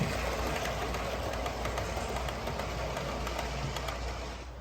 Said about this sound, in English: Have you noticed the clickety-clack that you get with some of these bigger gaps on the layout?